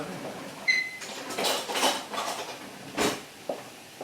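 A whisk is pulled from among kitchen utensils, with metallic clinks and rattles of cutlery and pans shuffled close by, a few sharp knocks, and brief talk in the background.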